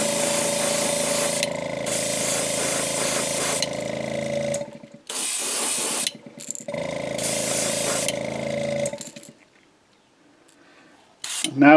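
An airbrush sprays Createx Pearlized Black paint onto a fishing lure, hissing in several sustained bursts of a few seconds each, separated by short pauses and one longer silence, close and fairly loud.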